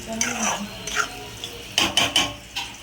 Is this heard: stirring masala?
yes